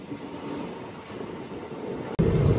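Andaman Express train (No. 16031) running near Gudur junction, heard from on board as a steady rolling rumble, then a sudden louder surge of rattling noise toward the end.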